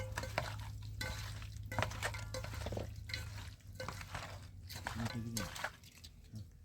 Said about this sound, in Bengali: এই উপকরণগুলো দিয়ে আমি সব মাংসটা ভালো করে মাখিয়ে নিচ্ছি